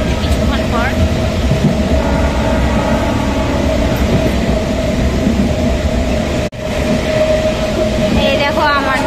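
Riding inside a passenger train: a loud, constant rumble and rattle of the carriage with faint rhythmic clatter underneath, while passengers talk throughout.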